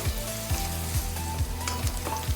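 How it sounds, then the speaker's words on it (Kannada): Three ingredients frying in a pan for Karnataka-style spicy mutton pepper dry, a steady loud sizzle with regular scraping stirs about every half second. "ಇವಾಗ ಮೂರನ್ನು ಸಹ ಸ್ವಲ್ಪ ಫ್ರೈ ಮಾಡ್ಕೊಳ್ಳೋಣ ಚೆನ್ನಾಗೆ"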